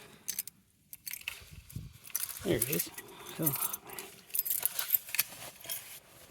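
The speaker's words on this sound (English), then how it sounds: "always walking around with so many keys in my pocket" Keys jangle in a pocket as a person rummages for them before starting a car, with metallic rattling bursts mixed under short spoken remarks.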